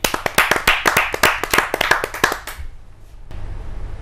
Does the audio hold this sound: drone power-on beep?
no